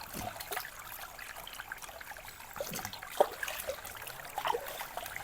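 A cool, fresh river in Kalinga flows and trickles softly nearby, a faint continuous wash of water with occasional small splashes and drips.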